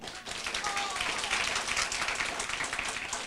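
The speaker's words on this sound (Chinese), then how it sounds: "我看大家各为家己鼓掌一下" An audience at a Taiwanese administrative seminar claps for themselves, a fairly quiet, steady patter of many hands that runs throughout without pause.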